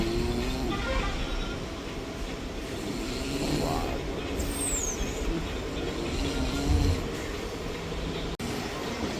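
A MEMU train pulling out of Bhimadolu railway station, heard from on board as a steady loud rumble of wheels and motors, with a brief high squeal partway through and people talking faintly nearby.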